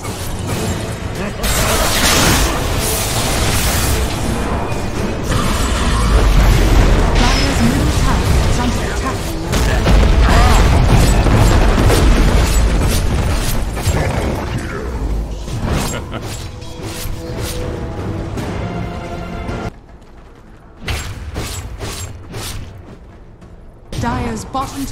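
Explosions, crashes and clashing combat effects from a tower attack in Dota 2 go on nearly without a break, loud and dense. The commotion thins out into scattered hits near the end.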